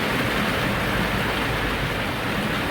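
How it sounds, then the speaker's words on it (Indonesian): Heavy morning rain falls around Mangkunegaran amid flooding and jammed traffic, a dense, loud, unbroken broadband wash with no voices. "Masih hujan deras di daerah sekitar Mangkunegaran."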